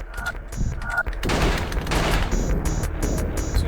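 Rapid bursts of gunfire in a first-person video game, loud and continuous with repeated shots, briefly preceded by a quieter gap.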